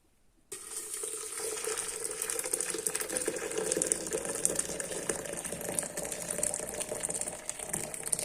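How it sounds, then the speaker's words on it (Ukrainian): Boiling water poured over green tea leaves, a steady hissing, bubbling stream that starts abruptly after a brief silence and runs continuously at close range with no talk. "І заливаю кипятком."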